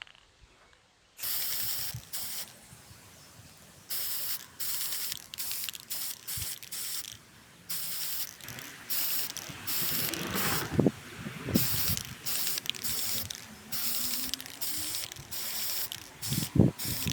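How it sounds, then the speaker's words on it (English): A spray paint can hisses in a long series of short and longer bursts with brief gaps between them, close and fairly quiet, alone without talking. "Should we spray paint it some more?"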